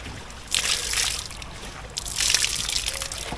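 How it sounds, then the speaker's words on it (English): Water sloshes and trickles in two close bursts as a sponge soaks it out of a small Mirror dinghy, with quieter dripping between them. "Can just use this sponge to get that water out"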